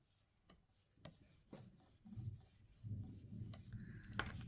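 A layer of paper is burnished down onto a handmade greeting card with quiet, close rubbing strokes that come in short, scratchy passes and grow a little fuller toward the end, with no talking.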